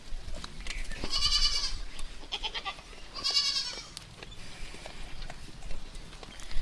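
Two native goat bleats ring out a couple of seconds apart, close and fairly loud, over a low rustling farmyard background.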